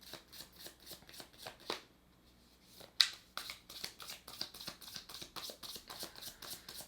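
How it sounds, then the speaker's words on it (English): A deck of cards being shuffled close by, with rapid crisp riffles and ruffles in quick repeated bursts. A short pause comes partway through, and no one speaks. "Let's shuffle, and while I'm shuffling"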